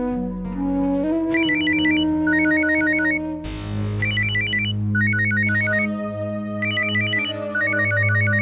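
A phone ringtone chirps in repeated electronic bursts, loud and close, over a steady musical backing with low sustained tones.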